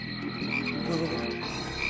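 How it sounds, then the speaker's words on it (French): Frogs croak in an animated scene, a dense overlapping chorus of steady rasping calls sustained throughout at moderate loudness. "Regarde bien ces grenouilles"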